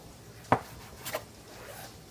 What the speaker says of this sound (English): And so I'm going to cut this into thirds.